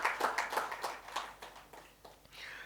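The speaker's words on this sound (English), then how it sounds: "Please give a big round of applause" An audience at a GST interactive meeting claps at close range in a brief scattered burst, irregular hand claps of varied loudness that thin out over a few seconds.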